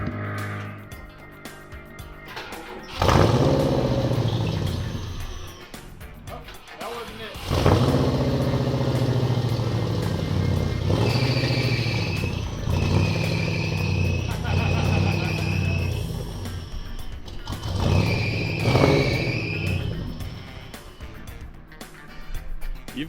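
A 1957 Ford Fairlane custom engine with a belt out of alignment runs and revs close by, with loud roaring bursts and a whining, squealing overtone that rises and falls. Voices talk intermittently over it.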